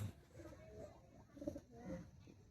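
Male high flyer pigeons coo softly in a few low, throaty bursts, faint and close, with light background rustle and no talk.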